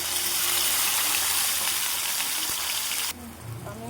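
Cumin, onion and green chili fry in hot oil with a loud, dense, close sizzle that runs steadily before dropping suddenly to a quieter hiss near the end, with no voices.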